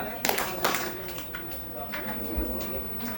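A few sharp hand claps from a group of children doing a counting clap chant at an Islamic school, scattered among lively young voices and room chatter.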